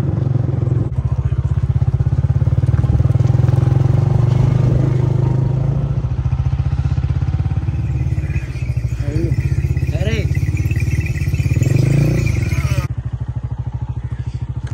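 A motorcycle rides along a village road near Multan, its engine a close, steady, loud rumble throughout with someone talking over it.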